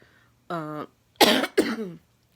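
A short throaty vocal burst followed by two harsh, loud coughs in quick succession, close to the listener.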